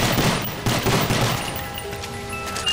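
Two guns fire in a Call of Duty zombies game on the Shangri La map, giving a dense burst of rapid shots that thins out after about a second, followed by lingering tonal game effects.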